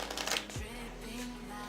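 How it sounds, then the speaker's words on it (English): A deck of playing cards being shuffled, a short burst of riffling flutter followed by a softer settling rustle, close and fairly quiet. "I'm gonna shuffle two of this deck together, two of this pile together, like this."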